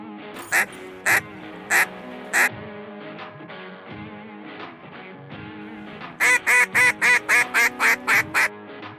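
Duck calls blown in early-season calling: a few separate quacks, then a fast descending run of eight or so loud quacks, with steady background noise and no talking.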